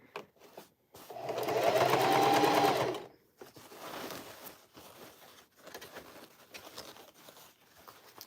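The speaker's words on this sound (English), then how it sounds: "Especially when you're circular sewing." A sewing machine runs a circular seam on a denim bucket hat, giving a loud, close burst of rapid stitching for about two seconds, then fainter fabric handling and light patter of the material being turned.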